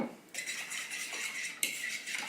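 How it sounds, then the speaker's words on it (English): A spoon stirs maple syrup and cinnamon in a cup, clinking and scraping against the sides in a quick, close, light rattle with a sharper tap partway through. "Give it a little stir."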